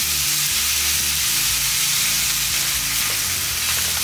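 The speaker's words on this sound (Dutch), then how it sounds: "Zet de burgers erin." Samurai burgers frying in a pan, a loud, close, continuous sizzle and hiss with no talking.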